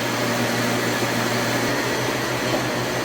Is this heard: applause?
no